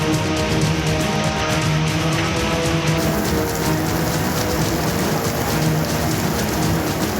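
Heavy rain pouring down on the streets of Mysuru during a storm, a steady, dense, loud hiss of downpour with drops drumming on surfaces, continuous throughout with no voices.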